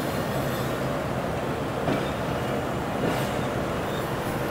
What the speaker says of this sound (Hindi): लूप लाइन से क्रॉस हो रहा है